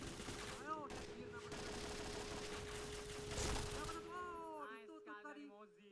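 Gunfire in a competitive shooter video game, including a Mosin rifle shot, crackles in dense bursts beneath an excited commentator's talk, with a steady tone running through before quieter game sounds.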